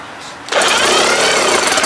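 A 20 hp Johnson outboard motor, spark plugs removed, has its flywheel turned by hand during fuel pump testing; after a quiet half-second, a loud, steady mechanical whirring rattle starts abruptly and continues without pause.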